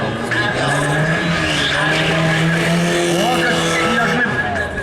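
A car starting an autoslalom run in Lviv, engine revving hard with squealing, skidding tyres, loud and continuous throughout.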